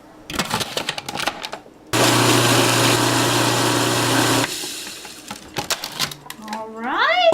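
A food processor whirs loudly and steadily for a few seconds as it blends graham cracker crumbs with pie spice and sugar, framed by clattering and handling sounds, with a voice heard around it.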